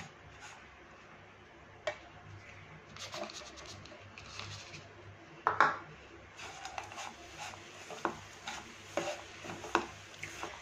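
A spoon stirs roasted flour mixed with jaggery in a pan, with scraping and light clinking strokes in an uneven rhythm that grow more frequent toward the end, close and fairly quiet.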